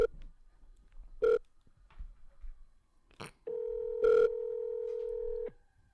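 Telephone keypad tones sound clearly in a quiet room: a few short separate beeps, then a long steady dialing tone with one more beep over it, as several phones are tried at once.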